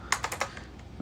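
Several quick keystrokes on a computer keyboard, about four close clacks in a burst followed by a couple of lighter taps, typed alone with no talking.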